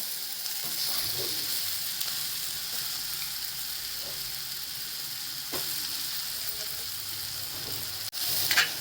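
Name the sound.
cluster bean kheema with thecha being sautéed in a pan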